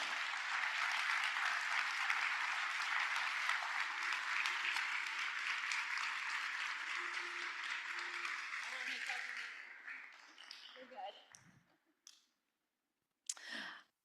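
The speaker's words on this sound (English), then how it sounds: "give this group a big round of applause for me" A conference audience at a closing session gives a big, sustained round of applause for about ten seconds, then it thins to a few scattered claps and trails off into near silence with a faint stray sound at the end.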